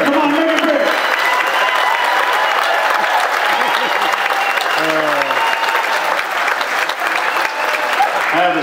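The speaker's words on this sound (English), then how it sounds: "Big round of applause for the ladies." Loud, sustained applause from a cruise ship audience at a hypnotist show on a sea day, steady clapping throughout with cheers and voices mixed in.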